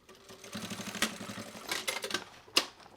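A sewing machine tacking binding tape handles onto a fabric shopper bag: a rapid rhythmic run of stitches, close and moderately quiet, broken by a couple of sharp mechanical clicks.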